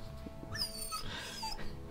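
The dog companion in the video game Dragon Age: Origins whimpers in a few soft, high, wavering whines across two seconds, close by over a low background hum, with no talk.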